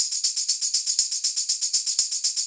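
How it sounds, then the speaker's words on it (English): A looped tambourine pattern with crisp, evenly spaced jingles in a steady quick rhythm, bright and close, playing alone. "a tambourine loop. Sounds like this."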